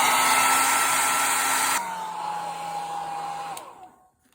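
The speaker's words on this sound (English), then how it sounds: "I'm going to use a regular hairdryer" A regular handheld hair dryer blows loud and steady while warming a white pillar candle, then switches to a lower setting with a softer hum before spinning down and cutting off.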